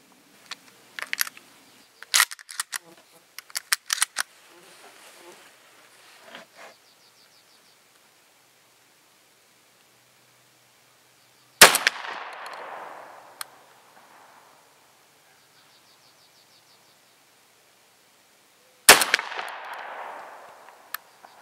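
Three heavy shots, each a rifled-slug load of 7/8 ounce Lee slugs, fired from a Remington 1100 shotgun with a fully rifled barrel at a 50-yard range. The loud blasts are spaced several seconds apart with decaying echo, after a few quieter clicks and handling noises.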